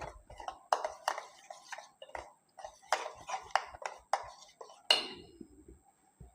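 A spoon stirs cumin powder, chopped coriander and green chilli into curd for a Kathiyawadi boondi raita, making quiet, irregular clinks and taps against the bowl, with one sharper clink near the end.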